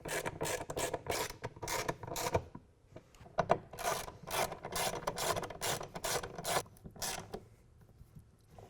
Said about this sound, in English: tighten these bolts back down, we're going to use a ratchet rather than the impact driver